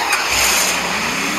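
A motorbike engine in a mobile battle-royale video game, a steady, loud, buzzing drone throughout with a slight rise in pitch, no talk over it.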